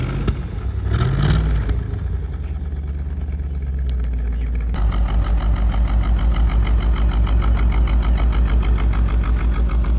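A high school project Corvette's engine runs as the car is driven, a loud, close, rough rumble that shifts at about the midpoint into a steady pulsing drone of regular throbbing firing.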